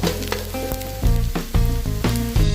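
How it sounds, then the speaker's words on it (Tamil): Onions sizzle briskly in a hot frying pan, a close crackle surging in short bursts as they are turned, over background music. "வெங்காயம் நல்லா வதங்கிடுச்சு"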